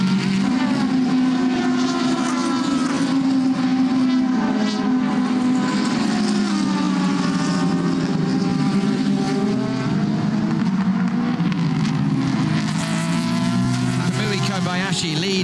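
Race cars at the 6 Hours of Nürburgring endurance race, including Aston Martin, Porsche and Toyota prototypes, produce a loud, continuous engine drone whose pitch rises and falls as they pass, filling the whole stretch.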